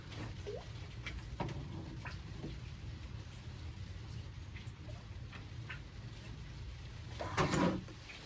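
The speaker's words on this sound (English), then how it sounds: "just the rain coming down now in the greenhouse" Steady rain patters on a greenhouse as a soft, continuous wash, with scattered drips and faint clicks and a brief louder rustle near the end.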